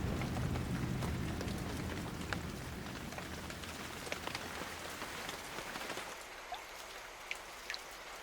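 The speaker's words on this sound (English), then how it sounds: "rain in the jungle is the elixir of life" Steady rain falling in a jungle, a dense, even hiss of drops on leaves and surfaces with scattered sharper drips, moderately faint and continuous, thinning slightly toward the end.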